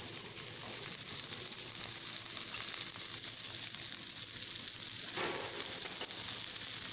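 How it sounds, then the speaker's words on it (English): Green beans sizzle in melted butter in a hot pan, a steady, loud, even frying hiss that runs unbroken from start to finish with no voices. "Then you have to add the beans."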